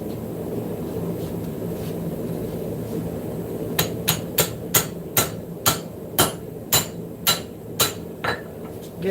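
A hammer strikes hot metal on an anvil while forging a blade in a shop, about a dozen sharp ringing blows in a steady rhythm after a stretch of low background rumble.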